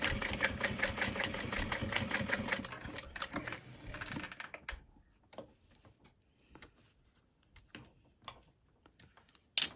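A sewing machine stitches a box stitch on a wide backpack with a quick, dense mechanical rattle for about four seconds. Scattered clicks and handling taps follow, close by.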